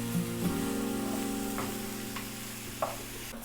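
Onions frying in oil with ajwain for chhole, a steady close sizzle with a low hum beneath and a few soft stirring scrapes, no voices.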